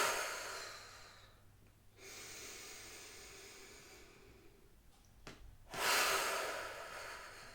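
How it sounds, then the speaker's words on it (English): Forceful exhales pushed out through the mouth during a yoga shoulder and ribcage mobility class, three breathy whooshes spaced a few seconds apart, fairly close and clear, the last one loudest, with no talking over them. "Big exhale out through the mouth as you push away."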